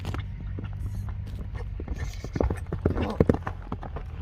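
A horse clip-clopping at speed, hooves striking in a quick, uneven rhythm that grows louder and closer toward the end, over steady low background noise.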